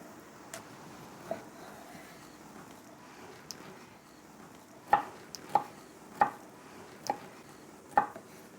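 A knife chops through vegetables on a board for a home-cooked seafood risotto, a few sharp, evenly spaced thuds coming close together near the end after quieter kitchen sounds.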